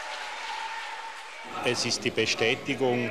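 Parliamentary applause fills the chamber as a steady, moderate wash of clapping for the first half, then a voice takes over and talks through the rest.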